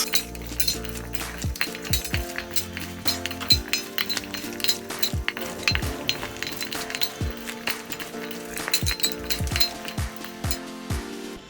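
Seasoned oxtail being mixed with browning in a bowl, producing close, busy clinks and scrapes of utensil against the dish in an uneven, continuous rhythm with no talking.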